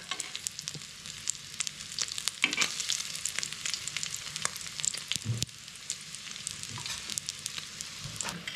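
Mushi fish cutlets coated in egg fry in a pan with a steady crackling sizzle, with brief clacks and scrapes as they are flipped, close and continuous, with no talking.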